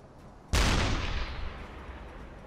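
A U-boat's deck gun fires a single loud, sharp shot in a video game, its boom decaying slowly over a long rumbling tail after a quiet moment.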